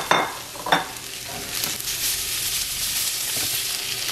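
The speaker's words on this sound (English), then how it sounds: "I'm going to go ahead and add my sliced portobello mushrooms and my one tablespoon of the herb butter." Sliced portobello mushrooms sauté in a hot pan with garlic herb butter, a steady loud sizzle after a couple of brief utensil clinks at the start, with no talking.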